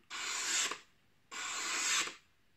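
A freshly leather-sharpened knife slices through paper into small strips in two separate strokes, each a crisp, close, rasping swish about half a second long, with quiet between them.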